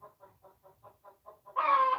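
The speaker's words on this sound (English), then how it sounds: "It's a chicken talking to the peacock" A chicken clucks near a peacock, giving a string of about nine short, evenly spaced clucks, then a louder drawn-out squawk at the end, heard up close with no talk over it.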